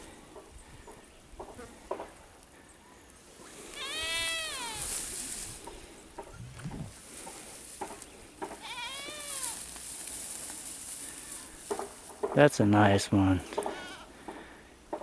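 A goat in Jamaica bleats a couple of times at moderate distance, wavering cries rising over a quiet outdoor background, with someone speaking briefly in between.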